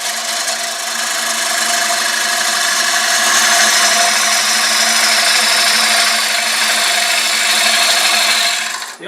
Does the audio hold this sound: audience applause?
no